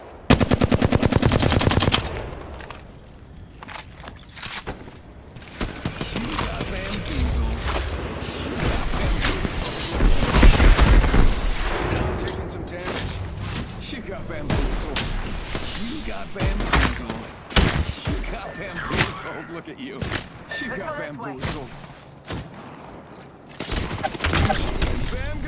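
Rapid bursts of automatic gunfire and single shots in a video game firefight, loud and dense throughout with brief gaps, a clatter of mechanisms and a voice speaking now and then underneath.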